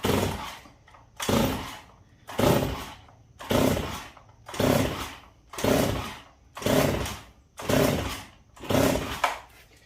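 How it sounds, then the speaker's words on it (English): A Poulan Pro 335 chainsaw's starter cord is yanked over and over with the choke off and throttle lock on, about nine evenly spaced ratcheting pulls, each a loud whirring burst followed by a brief pause. "I take it, I open up, I've got the throttle lock on and the choke is off, so it's going to have at least partially open throttle. I pull it 10 times"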